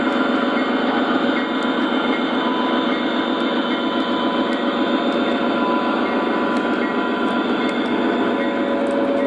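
An O gauge model CSX freight train pulled by two locomotives runs close by with a continuous whirring motor hum and a rapid, regular clatter of wheels over track joints, steady and unbroken throughout.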